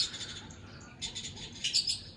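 Small birds chirp in scattered high bursts at a distance, quiet and intermittent against a calm background.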